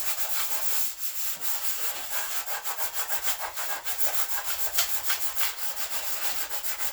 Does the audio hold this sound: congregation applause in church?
no